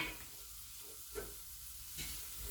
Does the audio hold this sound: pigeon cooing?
no